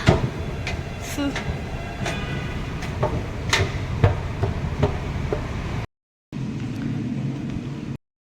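A metro train rumbles along with a low, steady roar, broken by scattered clanks and rattles of the carriages, with a short silent gap near the end.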